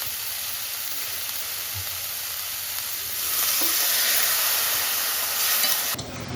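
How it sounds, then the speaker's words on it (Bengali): Dry spice masala sizzling in a pan with water poured in, a continuous loud hiss that swells and brightens midway, with faint stirring scrapes underneath before cutting off near the end. "আমি এখানে একটু জল দিয়ে দিচ্ছি।"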